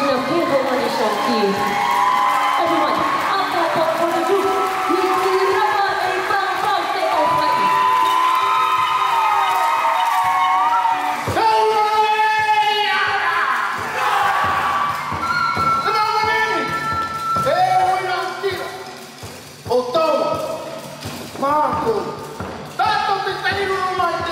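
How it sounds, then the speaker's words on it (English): Audience at a Tahitian dance show cheers and applauds loudly, a dense crowd roar with shouts and whoops rising over sustained clapping, with voices calling out through much of it. "Everyone, please join me in giving a big round of applause for one of Tenji's finest"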